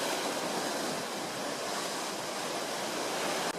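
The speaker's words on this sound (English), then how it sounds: "One of the biggest dangers when hunting dew on headlands is the swell." Ocean swell breaks against a rocky headland in a steady, broad roar of surf and rushing water that stays loud and continuous, with no voices over it.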